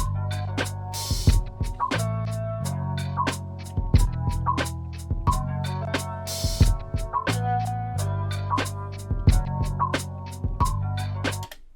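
A short lo-fi hip hop guitar loop with mellow repeating notes over a laid-back beat with kick and snare, relaxed and looping several times.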